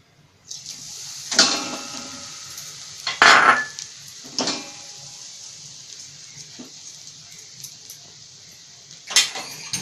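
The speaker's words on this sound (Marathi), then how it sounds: "सगळ्यात अगोदर आपण हे खोबरं भाजून घेऊया." Grated coconut dry roasting in a pan over a low flame, with a soft continuous hiss under occasional scraping stirs and clinks of a spoon against the metal, a few louder strokes spaced out across the stretch.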